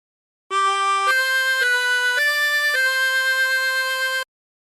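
Harmonica playing a phrase of the hymn Nearer My God to Thee without bends: five clear, sustained notes in a row, each held about half a second, close and clean with no talking.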